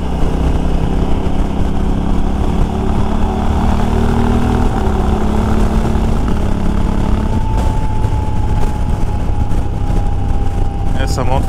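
A Honda Africa Twin 1100 Adventure Sports motorcycle with a quick-shifter, its engine running loud and close with a steady hum that shifts pitch as it changes gear, while a rider talks over it.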